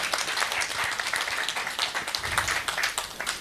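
A church congregation applauds together in steady, dense clapping that fills the room at moderate loudness, continuing evenly throughout without talk.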